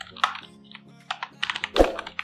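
Someone types Python code on a computer keyboard in short, uneven bursts of close, crisp key taps, with a few louder key strikes.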